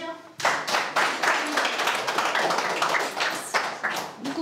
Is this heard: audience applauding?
yes